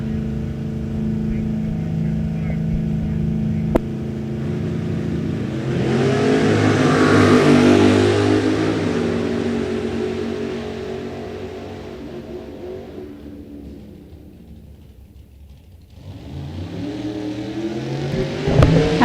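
Two Camaros, a 1987 and a 1989, launch down a drag strip, engines revving hard and roaring loudly before fading into the distance, then another loud engine rises sharply at the end.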